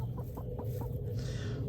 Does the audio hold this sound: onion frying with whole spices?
no